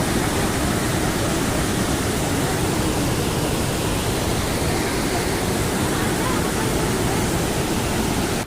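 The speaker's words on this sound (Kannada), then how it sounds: "ಇದು ನಿಮಗೆ ಮೊದಲು ಕಾಣುವ ಜಲಪಾತದ ಕೆಳಗಿನ ದೃಶ್ಯ" Bheemeshwara waterfall pours in a steady, loud, continuous roar of rushing water, dense and unbroken throughout with no voices.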